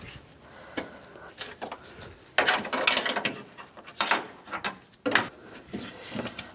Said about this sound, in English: You can use a hose clamp pliers and just move the hose clamp.